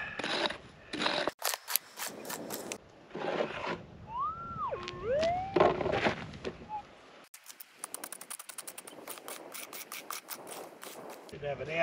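Metal detector swept over ground while hunting for gold, emitting a warbling rising and falling electronic tone amid scraping, rustling and digging noises, with people talking nearby.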